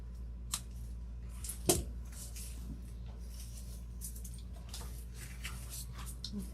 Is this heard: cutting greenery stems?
yes